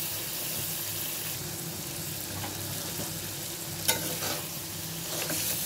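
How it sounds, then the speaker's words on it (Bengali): Spice paste for a boal fish dopeyaza fried and stirred in a pan, a constant moderate sizzle with occasional soft scrapes and one sharp clink, with no talking. "আমি মশলাটা কষিয়ে নিচ্ছি।"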